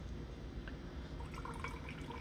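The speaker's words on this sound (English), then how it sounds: "We'll go ahead and try to pour off most of this liquid." Liquid poured off settled gold powder recovered from RAM gold fingers, a soft, close trickle with faint splashes and drips, quiet and steady, with no voices.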